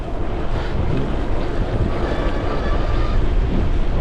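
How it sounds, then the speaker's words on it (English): Strong, steady wind buffeting the microphone while riding a folding electric bike, a dense roar filling the whole clip with no let-up. "it's very windy today"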